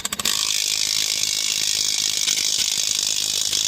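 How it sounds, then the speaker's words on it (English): Rapid continuous clicking of a ratchet wrench tightening the crankshaft bolt on a 2.0-litre Ford Explorer during harmonic balancer replacement, close and steady after a brief start, with no talk. "So let's snug this bolt back up."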